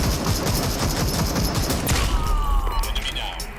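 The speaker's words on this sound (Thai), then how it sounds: "ดูดิเรายิงเขาไม่โดนอ่ะ" Gunfire in the shooter game Super People 2, a dense rapid fusillade of shots followed by a few sharper separate bangs and whooshing game effects, loud and close.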